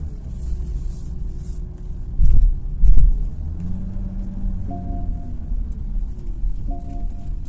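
A 2018 Porsche Cayenne cruises at speed, a steady low engine and road rumble heard from inside the cabin, with a couple of louder thumps and a soft chime partway through.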